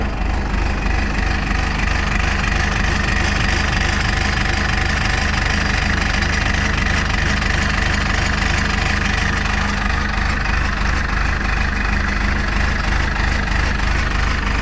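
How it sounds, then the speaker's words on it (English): A cold three-cylinder diesel engine idles with a loud, steady, rough clatter and low knocking throb, close to the listener and uninterrupted throughout. "There ain't nothing better listening to a 3-cylinder when it's cold."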